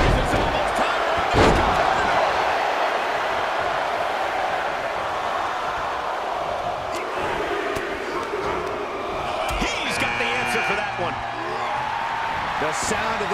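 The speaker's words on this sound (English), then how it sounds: "The sound of this crowd is deafening, and he's asking for more." A loud, dense wrestling arena crowd roars continuously throughout, with a sharp ring slam near the start and scattered shouts rising above the din.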